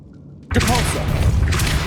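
Depulso force spell cast in the Hogwarts Legacy video game, a sudden loud whooshing blast that bursts in halfway through and rings on with a dense, resonant tail, alone without talk.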